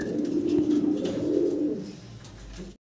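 A pair of black Danish pigeons coo in a low, sustained, throaty murmur close by, steady for a couple of seconds before it trails off.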